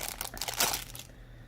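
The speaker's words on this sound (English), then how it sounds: "Rattly packet again." Rattly plastic packet crinkling and crunching close up during a Sakura Latte themed box unboxing, a dense burst of crackle peaking midway then stopping abruptly into near silence.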